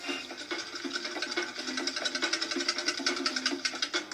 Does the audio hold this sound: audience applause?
no